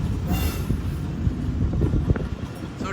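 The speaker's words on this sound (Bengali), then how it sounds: "তো ট্রেন কিন্তু চলা শুরু করে দিয়েছে, গদখালির উদ্দেশ্যে যাচ্ছে যশোর হয়ে।" Passenger train running on rails toward Gadkhali via Jessore, with a steady loud rumble, rattling wheel clatter and a brief high squeal, close and continuous with no talk.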